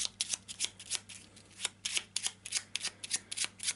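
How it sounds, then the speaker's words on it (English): A deck of playing cards shuffled during an Eldritch Horror board game session, a rapid run of crisp riffling bursts close up and alone. "do a quick shuffle of these, a quick cut"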